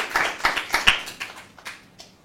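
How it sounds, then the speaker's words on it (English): A small audience claps briefly in a classroom or presentation, a handful of distinct claps at first that thin out and fade within two seconds. "you can clap for him"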